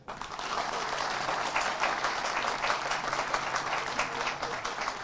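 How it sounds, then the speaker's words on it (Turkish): A crowd at an outdoor gathering with the provincial governor bursts into loud, sustained applause that rises quickly and holds steady for several seconds, dense and continuous with no speech on top. "Bunlara teşekkür edince acayip alkış koptu"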